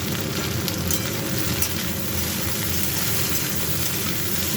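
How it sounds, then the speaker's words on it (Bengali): Okra frying in a pan, a continuous dense sizzle with crackling oil that stays loud and steady throughout. "ভেন্ডিটা হালকা ভাজা হয়ে গেছে, তারপরে একটু পেঁয়াজ দিয়ে দেবো"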